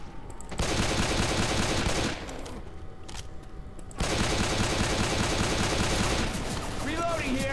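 Rapid, loud gunfire from a pistol in the video game Left 4 Dead 2 crackles in dense sustained volleys, with a brief lull and then more shooting.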